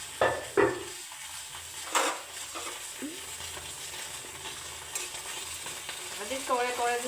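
Green pea pods roast and sizzle in a pan with steady crackling, broken by a few sharp clinks and stirring scrapes of a utensil against the metal; a fainter stir and bubbling rises near the end.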